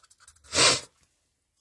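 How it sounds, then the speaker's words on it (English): A single close sneeze bursts out in a quiet room at a card-making craft desk, short and sharp, preceded by faint small sounds and followed by silence. "I've got another sneeze coming on, I can feel it."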